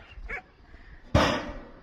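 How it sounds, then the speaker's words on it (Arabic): A dog lets out a single sharp bark, loud and close, after a brief faint yip, at a home during an Eid celebration. "الكلبه كتنبح بالليل"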